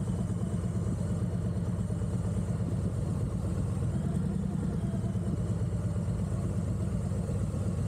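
A Harley-Davidson Heritage motorcycle engine idles close by with a steady, throbbing low rumble and faint clatter, unchanging throughout.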